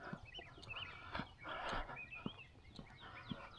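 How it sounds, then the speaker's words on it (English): Geese calling outdoors on a walk at a park, a run of honks and clucking cries repeating every second or so at moderate distance, over steady outdoor background noise. "Got some geese coming up."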